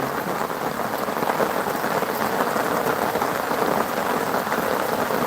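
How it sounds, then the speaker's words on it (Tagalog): Heavy rain pours steadily and loudly throughout, a dense, continuous wash of drops on surfaces with no talking. "lumakas yung ulan"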